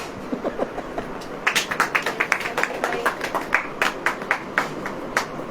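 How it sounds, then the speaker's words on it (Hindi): An audience clapping hands at a sermon, a steady run of roughly rhythmic claps that builds after a sparse start, moderately near with no talk over it. "ताली बजाइए।"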